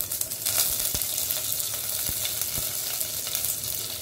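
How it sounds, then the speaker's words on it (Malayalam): Mustard seeds, dried chillies and curry leaves fry in hot oil in a kitchen pan, giving a steady close sizzle scattered with small pops and crackles, with no talking. "കടുകും മുളകും പൊട്ടിക്കഴിഞ്ഞാൽ നമുക്ക് കറിവേപ്പില ഇടാം."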